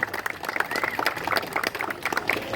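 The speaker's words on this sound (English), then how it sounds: "So how about a round of applause for that?" A crowd applauding at an event at Legoland Florida Resort celebrating its 5th birthday, with dense, continuous clapping from a group of people close by and steady throughout.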